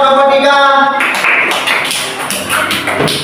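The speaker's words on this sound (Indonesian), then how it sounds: "Tepuk tangan dulu buat kelompok 3." A classroom group clapping for a student team during a university course session, a short spell of brisk hand claps following a voice, loud and close.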